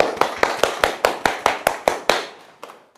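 A small group claps in brisk, evenly spaced unison, about a dozen sharp claps in under three seconds, close and clear, at a well-dying and death-preparation instructor training class at a university. The last claps trail off unevenly.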